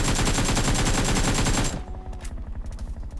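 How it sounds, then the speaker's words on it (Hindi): Groza assault rifle fire in a battle royale shooter: a loud, dense stream of rapid shots for about a second and a half, then quieter scattered bursts echoing farther off. "यहाँ पे वो ग्रोजा वगैरह की फायरिंग करता है"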